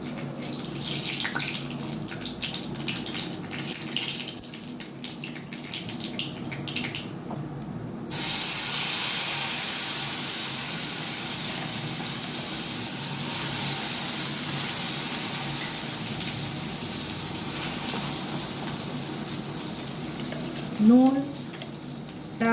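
Dried chilli and black cumin seeds frying in hot mustard oil in a wok, giving a steady, hissing sizzle that lasts throughout with a brief crackle near the end.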